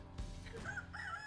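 Backyard chickens let out a short clucking call, faint and brief, rising in pitch once or twice over a quiet outdoor background.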